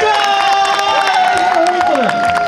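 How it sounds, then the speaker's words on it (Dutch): A crowd at an animal event cheers, whoops and claps loudly, with children's shouts and high-pitched calls ringing over the dense applause. "Een ontzettend hard applaus voor ja"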